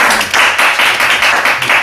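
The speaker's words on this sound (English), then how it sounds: "Okay, round of applause for the second half," An audience applauds steadily for a second-half session, a dense, continuous patter of many hands clapping close and loud with slight swells, no voices.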